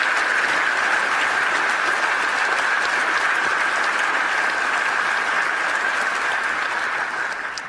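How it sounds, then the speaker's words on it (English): Sustained audience applause at a community event honoring two people, a dense, steady wash of many hands clapping that holds loud and even for several seconds before starting to fade at the end. "So please give a round of applause to both Greg and Benjamin"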